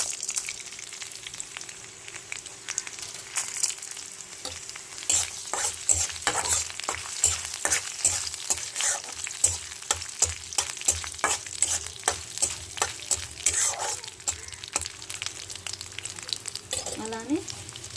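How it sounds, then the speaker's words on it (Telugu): Dried red chilies and tempering seeds frying in a little oil, with a steady close sizzle and crackle punctuated by frequent spatula stirs and scrapes, and no voices. "ఎండుమిరకాయలతో పాటు పోపు గింజలు కూడా వేసేసుకున్నామండి"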